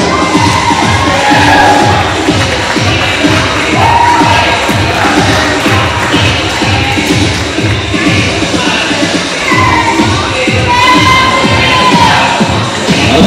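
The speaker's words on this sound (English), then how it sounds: "let's give a round of applause for our prince tonight, Matthew Torres." A prom crowd cheers and shouts for the newly named prom prince at a junior prom, loud and continuous, with excited whoops and yelling, clapping buried in the noise, and voices throughout.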